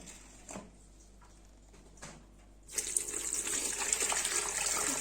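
Poppy sherbet liquid strained through a strainer: a few faint clinks, then a steady, fairly loud pour of liquid that runs to the end with no talk.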